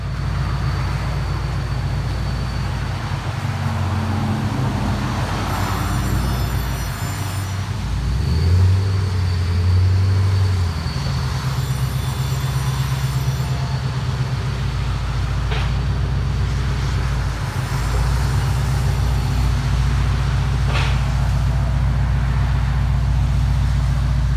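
A 2000 Pontiac Firebird with a 5.7L V8, dual exhaust, muffler delete and MagnaPacks idles with a deep, steady, loud rumble that continues unbroken throughout, with no clear revving.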